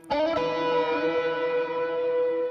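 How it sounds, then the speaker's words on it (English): A sustained electric guitar chord bends downward as the tremolo bar dips, then rings out with delay and reverb trailing smoothly behind it. "if you've got like a tremolo rod, you can hit that too. It does a cool effect with the delays and reverbs."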